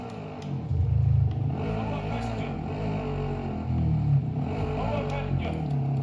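A car in Call of Duty: Warzone drives and revs, with a steady engine drone that swells in a couple of surges, while game chatter and voices run underneath.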